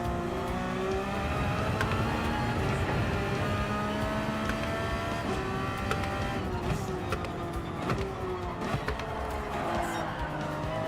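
A race car in Gran Turismo 7 accelerates through the gears, its engine note climbing then dropping at each upshift, with some tire squeal mixed under the steady loud drone.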